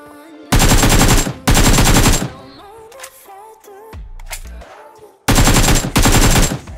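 Loud automatic gunfire in BGMI PUBG Mobile comes in three rapid bursts. Two sit back to back near the start and a third pair arrives at the end, with quieter game and menu sounds in between.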